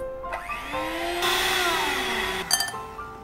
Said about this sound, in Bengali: প্রথমে আমি অল্প পরিমাণে মাখন নিয়েছি মাখনটা একটু ব্লেন্ড করে নিব